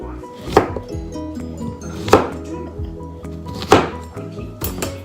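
A kitchen knife slices fresh ginger and lemon on a cutting board, giving four sharp chopping knocks spaced about a second and a half apart, close and fairly loud over a low background hum.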